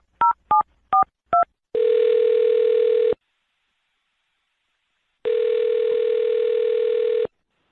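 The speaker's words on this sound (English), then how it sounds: "I'm going to dial her phone number right now" Four quick touch-tone dialing beeps, then a steady telephone tone that stops and returns after a pause of about two seconds, clear and close with no voices.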